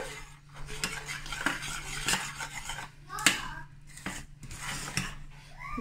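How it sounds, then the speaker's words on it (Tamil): A thickening homemade milk chocolate mixture being stirred in a pan over a medium flame, with repeated close scrapes and taps of a spoon against metal in an irregular rhythm, quiet and without talk. "லைட்டாக மீடியம் ஃப்ளேம்லேயே வச்சுட்டு கிளறி விட்டுட்டே இருங்க"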